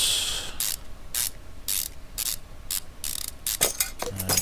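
A ratchet wrench tightens exhaust manifold bolts in the repair game Car Mechanic Simulator 2015, giving a rapid series of sharp metallic clicks in regular bursts, loud and close, ending in a quicker flurry of clicks.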